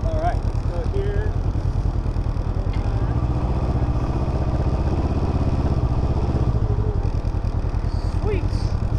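A Can-Am Ryker three-wheel motorcycle engine throbs steadily and loudly up close, a rhythmic mid-pitched pulse that runs throughout, while people talk over it.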